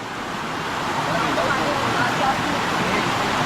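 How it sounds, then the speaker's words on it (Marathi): A natural waterfall in the Konkan roars in a constant broadband rush, with people's voices faintly mixed into the noise. "बघा असं नॅचरल धबधबा आहे"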